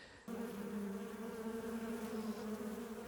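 Honeybees around a hive hum in a steady, close, sustained buzz that starts abruptly and continues evenly, with no voices.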